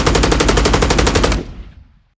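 A rapid automatic burst of recorded gunfire, made for game sound design, rattles loud and close for over a second before cutting off into a short ringing tail that fades to silence.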